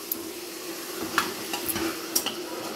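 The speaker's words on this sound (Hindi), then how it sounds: "खूब अच्छे से भूनते रहना है जब तक पानी नहीं सूख जाता है।" Mutton masala stir-fried in a pan for coconut milk dum biryani, a steady low sizzle with occasional scraping clinks of the spoon against the pan, close and without talk.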